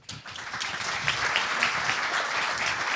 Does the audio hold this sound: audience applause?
yes